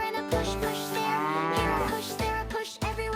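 Cow on a farm lowing in a long, loud, drawn-out moo with a rich harmonic tone, close by and heard alone in the rain.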